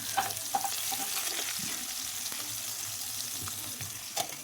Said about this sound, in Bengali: টুকরো করা টমেটোটা একটু তেলের উপর ভেজে তুলে রাখবো